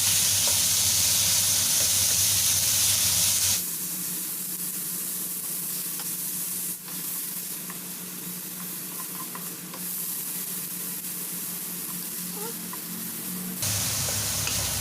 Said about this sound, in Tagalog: let's start to cook our minced pork